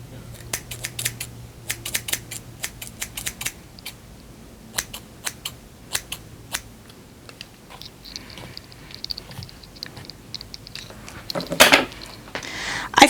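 Crisp, rapid scissor snips cutting hair into face-framing front layers in irregular bursts close up, pausing midway, then a brief rustle and louder shuffling at the end.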